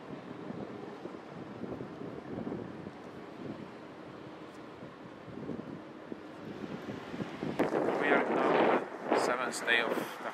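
Strong wind buffets the microphone outdoors at a hunger strike protest camp, a steady rough roar throughout that swells louder near the end.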